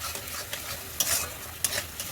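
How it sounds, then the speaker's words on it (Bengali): Spice paste with yogurt frying in a pan, a steady sizzle broken by a few sharp spoon scrapes and clinks as it is stirred, close and fairly loud. "দই দিয়ে আবার এই মশলাটাকে আমি ভালো করে আবার ওইটাকে ভাজবো"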